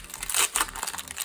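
A Pokémon card booster pack wrapper, a Lucario and Melmetal pack, is torn open with close, crisp crinkling and tearing of foil plastic over about a second, with no talking.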